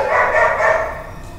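Several dogs barking through the night at distant howls, a dense, steady run of overlapping barks at moderate distance that eases slightly toward the end.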